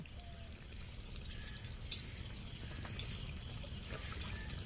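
Ghee poured over a prawn malai curry, a soft, faint, steady trickle of liquid with light clicks from the pan, no voices.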